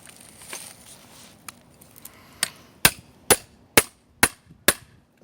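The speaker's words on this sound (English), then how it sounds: "And beat it with a hammer." Hammer blows on a grommet setting tool fixing grommets into a kydex sheath, five sharp, loud metallic strikes in an even rhythm after some quieter handling taps.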